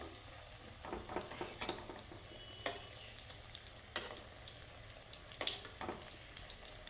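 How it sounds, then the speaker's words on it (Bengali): Food sizzles and fries in a pan, a steady crackling hiss broken by sharp clinks and scrapes as pieces are turned over; no voices. "দেখো এইভাবে আমার ভেজে নিতে হবে এপিট ওপিট করে লাল করে সুন্দর করে ভেজে নিতে হবে"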